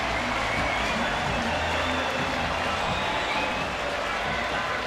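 A sold-out ballpark crowd keeps up a steady, broad wash of applause and cheering throughout, even and sustained, with no single voice standing out from the stadium roar.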